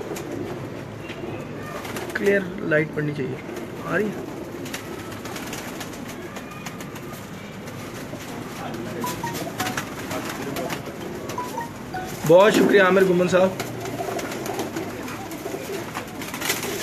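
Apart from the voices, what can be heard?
pigeons cooing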